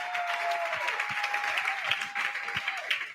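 Audience applause at a charity auction, brisk continuous clapping from a crowd over a few seconds, fairly close, with a faint sustained tone underneath.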